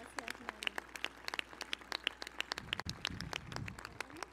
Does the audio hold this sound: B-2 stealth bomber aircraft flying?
no